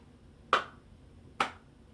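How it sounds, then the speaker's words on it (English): Two lone hand claps, sharp and close, spaced almost a second apart in a quiet room, an awkward slow clap with nothing else around it. "One of those awkward like slow claps."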